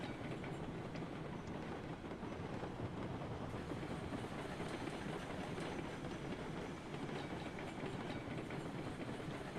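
Train cars rolling on rails in the Railroads Online video game, a steady, dense rumble with continuous clickety-clack wheel noise, constant and fairly loud throughout with no speech.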